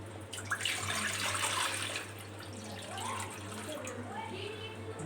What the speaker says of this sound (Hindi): मैं इसमें पानी डालती हूँ।